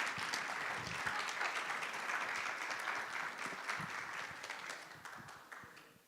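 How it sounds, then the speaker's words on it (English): An audience applauds the new guide dog teams at a graduation ceremony, a dense, continuous patter of many hands clapping that fades slightly at the end. "Let's give another big round of applause for our 4 new guide dog teams"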